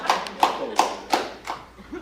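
A man in a stand-up comedy audience claps about six times in an even rhythm, close and fairly loud, with room noise underneath.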